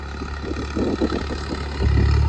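A 3630 tractor engine runs during a fuel consumption test, a steady low diesel rumble that grows louder and heavier toward the end.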